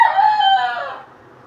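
A fighting cock, a gamefowl, crows once nearby, a loud drawn-out call that fades away after about a second with no talk over it.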